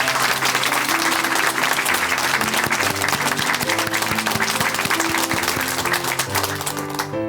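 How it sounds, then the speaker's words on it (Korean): Steady, dense audience applause fills a church broadcast hall in Chuncheon, with sustained clapping throughout and a soft musical tone underneath; no one speaks. "박수로 함께 응원해드리겠습니다"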